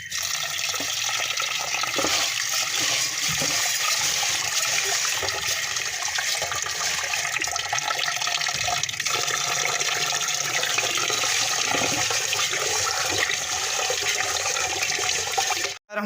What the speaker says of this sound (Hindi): अब हम इन दोनों को मिक्स कर लेंगे और इनको तकरीबन 2 मरतबा अच्छी तरह से धो लेंगे